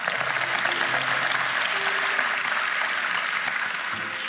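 Dense, steady applause from a church congregation, loud and continuous throughout with no pauses.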